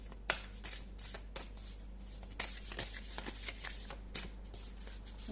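Light tarot cards being shuffled by hand in a steady run of soft riffling flutters and slaps, close and quiet, with no voices.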